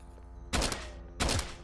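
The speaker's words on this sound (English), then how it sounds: "Who's shooting at me?" Gunfire in the video game Hyperviolent: two loud, close bursts of rapid shots, each lasting about half a second, separated by a short gap over a low game background.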